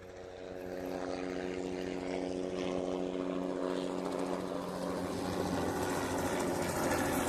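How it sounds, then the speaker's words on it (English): Droning engine of a helicopter passing overhead, a steady hum with tonal layers rising slightly and holding at moderate loudness, without speech. "helicopters"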